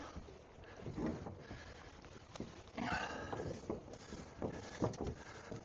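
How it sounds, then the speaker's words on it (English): Gentle swishing and gurgling of water sliding past the hull of a Catalina 22 sailboat on an evening sail, soft and close with light wind noise and a few faint knocks. "And we can hear the waters moving now."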